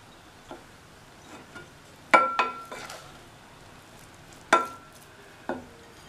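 Idiyappam string hoppers being stirred in a pan give sparse, sharp clicks and scrapes of a utensil against the metal, a few knocks spaced irregularly over quiet background.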